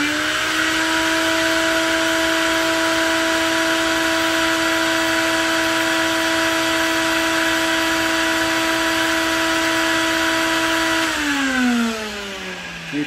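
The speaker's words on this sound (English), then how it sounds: "So I'll turn on the vacuum cleaner first so you can see it." A vacuum cleaner motor whines at a steady, loud pitch, then winds down as it is switched off near the end.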